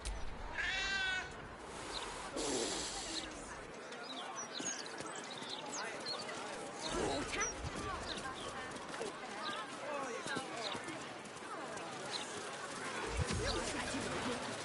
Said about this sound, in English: The cat seems reluctant to part from you.